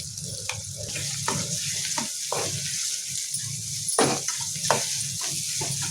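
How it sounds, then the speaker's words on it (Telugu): Onions and chili powder fry gently in a pan on low heat for chitrannam, giving a soft, continuous sizzle with faint stirring clatters. "సిమ్లో పెట్టి వేయించుతాము."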